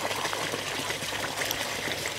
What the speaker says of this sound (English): allowing the water to flow freely through the bioballs